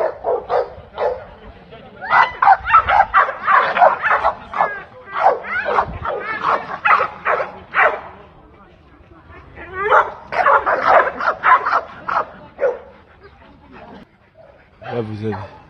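Dogs barking repeatedly at an American Bulldog conformation show, rapid bursts of loud nearby barks and yips in clusters with short pauses, plus a brief whimper, while someone talks underneath.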